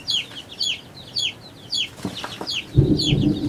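Bantam Milford d'Uccle baby chicks peep in repeated high chirps, close by, with a louder rustling, scratching burst near the end.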